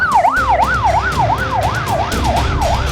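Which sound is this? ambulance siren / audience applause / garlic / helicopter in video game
ambulance siren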